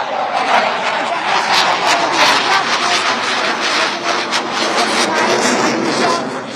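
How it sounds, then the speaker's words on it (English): Rafale fighter jets of the Indian Air Force roar overhead at an air power show on the Ganga Expressway, a loud, steady broadband jet rush that fills the whole stretch without a break. "this is the Rafale fighter jet that we see on our screens right now"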